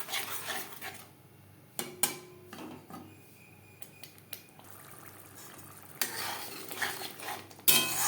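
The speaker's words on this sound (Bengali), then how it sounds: "হলুদ মশলার সাথে বেশ ভালো করে মিক্স করে দেব" A spoon stirs turmeric spice paste in a pan for a silver carp fish curry, producing intermittent scraping and clinking against the metal over a faint sizzle, with louder bursts of stirring toward the end.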